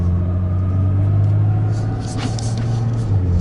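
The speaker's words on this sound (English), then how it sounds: "My truck started. I'm getting out of here, guys. Coming down the hill here." Truck engine rumbling steadily with a low drone as it rolls down a hill in the woods, with faint higher whirs and clatter above the rumble.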